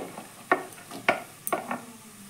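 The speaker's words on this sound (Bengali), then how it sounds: "এবার বরবটিটা আমি একটু ভেজে নেব।" Cut yard-long beans fry in a pan, with a soft sizzle under a few sharp clacks of a spatula stirring against the pan, close and fairly quiet.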